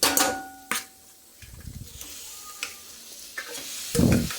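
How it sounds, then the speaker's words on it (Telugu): Onions frying golden brown with turmeric in a pan, heard as intermittent stirring scrapes and clatters of a utensil over a soft, low sizzle, with sharp knocks spaced unevenly and a louder burst near the end. "మనకు ఎప్పుడైనా ఆనియన్స్ గోల్డెన్ బ్రౌన్ కలర్లో వేగాలి."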